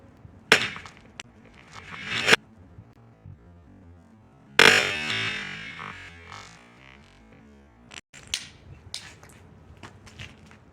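A two-handed medieval war mace smashes into bone, giving a few sharp, loud cracking impacts separated by pauses, followed by fainter scattered knocks and clatter.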